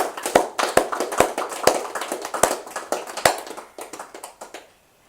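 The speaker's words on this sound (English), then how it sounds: "we all applaud, we clap gently" An audience claps gently in a workshop setting: a dozen or so soft, scattered hand claps in loose rhythm, fairly close, tapering off and ending in quiet.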